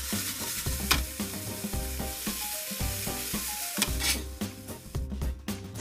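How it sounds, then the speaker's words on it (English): Beef for soy sauce bibimbap frying in a pan, a loud continuous sizzle with stirring clatter and scraping throughout, close and alone. "You better cover up the pan for a while when the beef is almost cooked."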